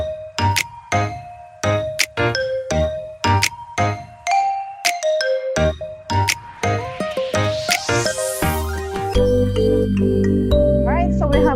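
Bell chime at the end of a quiz round in a biodiversity awareness programme, a series of loud, evenly spaced ding-dong strikes followed by a brighter sustained ringing tone at the end.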